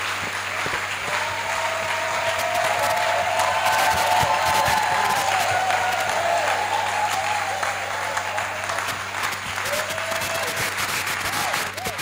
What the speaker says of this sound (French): nous allons recevoir l'homme de Dieu, le prophète Jules Gama, avec vos acclamations.